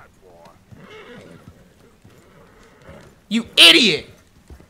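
A horse in the Red Dead Redemption 2 video game gives a loud, shrill neigh near the end, with hooves clip-clopping beneath shouting voices.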